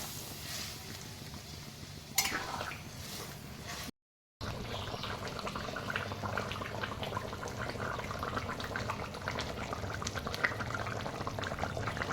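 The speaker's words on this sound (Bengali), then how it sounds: "আমি এখানে উষ্ণ গরম জল করে রেখেছি এরপরে এটা ঢেলে দিই জলটা" Warm water poured into a pan of sautéed desi chicken curry makes a steady, close rush of liquid, with a brief splash and a short gap before a continuous bubbling pour.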